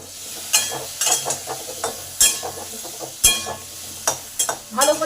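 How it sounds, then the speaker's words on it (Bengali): Potatoes frying in hot oil with salt and turmeric, stirred in a pan: a steady sizzle runs beneath repeated scraping and clinking strokes of a spatula against the metal, close and fairly loud. "তেল গরম হয়ে গেছে এবার এই আলুগুলোকে কষে নেব"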